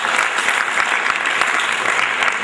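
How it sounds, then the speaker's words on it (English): Dense, steady applause from an audience at a national HR summit, with many pairs of hands clapping continuously and evenly for the whole stretch, with no voices over it. "Clap for the wonderful audience, you boys and girls."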